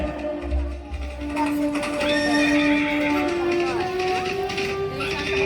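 Horses whinny through a powada performance, tied to a king's horses riding toward Pune, with a long loud neigh rising over a steady bed of music and voice. A short low thump comes early, though galloping hooves are not clearly evident.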